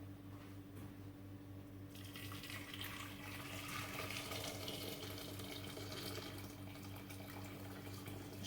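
Chicken broth poured from a pot, a steady liquid stream splashing continuously at close range alongside a low hum, with no talking.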